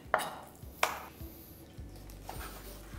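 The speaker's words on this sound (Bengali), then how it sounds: "আর একটা চিকেন ব্রেস্ট কেটে নিচ্ছি।" A knife cuts chicken breast into pieces on a board in a home kitchen, two sharp near taps followed by softer thuds and squishy slicing, quiet and alone.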